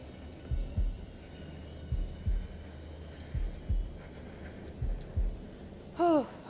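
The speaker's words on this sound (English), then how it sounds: "It's heartbeat time." A deep, thudding heartbeat from the video game The Devil In Me pulses in paired beats at a steady pace, low and close. A brief rising tone sounds near the end.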